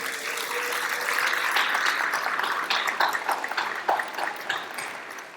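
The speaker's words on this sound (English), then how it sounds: "Can we please give a big round of applause to her?" A crowd applauds steadily and loudly throughout, a continuous wash of clapping that thins slightly toward the end.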